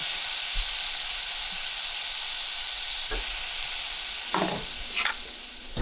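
Butter sizzles steadily under a frying peanut butter and jelly sandwich in a pan, a constant close crackle with a few soft scrapes and knocks near the end.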